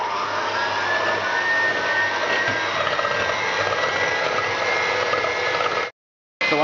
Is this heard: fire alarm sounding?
no